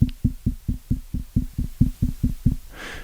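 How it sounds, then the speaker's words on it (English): Fingertips tap a Shure SM58 dynamic microphone about ten times in a steady rhythm, each a close, dull thump, followed by a brief soft rustle at the end; no one speaks. "And let me tap the microphone a few times."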